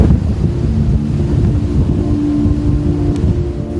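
Strong coastal wind battering the microphone at a fishing shore, a loud continuous low roar with steady buffeting throughout and no talking.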